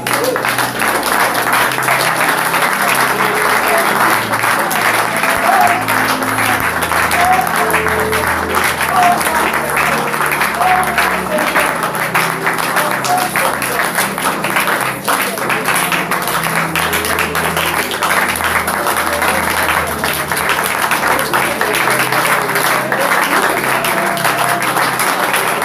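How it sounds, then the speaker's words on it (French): Church congregation in Cameroon applauding continuously in a loud, dense wash of clapping that fills the space, with voices mixed in throughout. "Applaudissons pour notre Seigneur"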